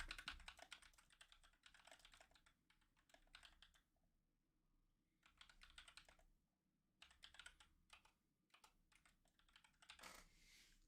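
Faint typing on a computer keyboard during a football game chat session, coming in short irregular bursts of soft key taps separated by pauses, with a brief rustle near the end and no talking.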